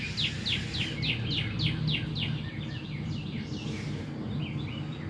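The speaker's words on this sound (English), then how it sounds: "I wish I knew what kind of bird it was" An unidentified bird calls in a quick run of about ten sharp, descending chirps, then fainter, scattered ones. The calls ring out clearly over a low, steady outdoor background, with no one talking.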